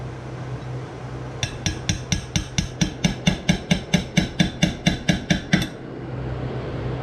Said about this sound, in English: those of you laughing because I'm using the side of the hammer, it's easier